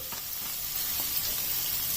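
Finely chopped green capsicum sizzles in a pan with a soft, continuous hiss and a few faint stirring taps. The sound is fairly quiet and there is no talking.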